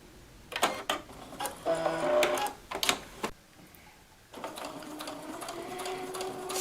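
Sewing machine stitching a polka-dot tote purse, running in several bursts with short pauses, then a steadier continuous run toward the end, close and fairly loud.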